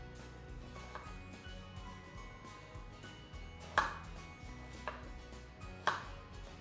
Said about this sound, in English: You can cut it anyhow you like.